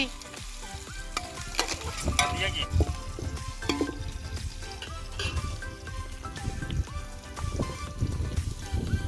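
Onions fry in oil until light brown for tomato rice. Dense crackling sizzle continues throughout, with irregular scraping stir strokes and occasional louder spatters close to the pan.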